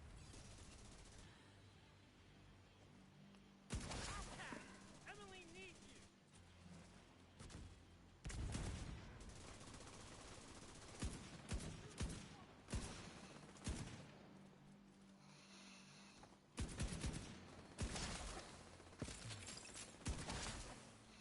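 Gunfire in the shooter game The Division 2, arriving in irregular bursts of sharp shots set against a quieter game ambience, with short lulls between the volleys.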